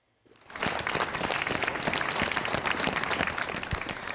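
Mourners and well-wishers at a makeshift memorial outside the fire-struck Constellation bar in the Swiss ski resort of Crans-Montana applaud arriving firefighters, as dense crowd clapping swells from near silence and then holds steady and loud.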